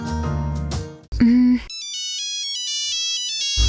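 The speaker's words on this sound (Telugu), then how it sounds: "మావాడి ఫోన్ చేశాడు" An incoming call sets off a mobile phone ringtone: a bright electronic melody of clear, sustained tones plays loudly and up close, just after a brief voiced sound at the start.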